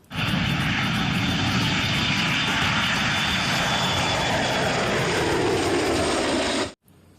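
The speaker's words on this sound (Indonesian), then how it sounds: "Wih, mainan pesawat. Wow, pesawat terbang." A toy airplane gives off a loud, continuous droning engine whir that holds steady for nearly seven seconds before cutting off abruptly.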